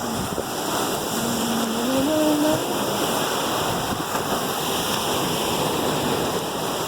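Ocean surf rolls in continuously at Bellows on Oahu, a broad wash of breaking waves heard from nearby, steady with slight swells, a faint tonal whistle drifting briefly over it, no talking.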